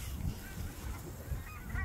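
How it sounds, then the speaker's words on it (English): A few distant geese honk faintly over a low, rumbling outdoor background, with short calls scattered across the moment. "Oh, geese. Those are geeses."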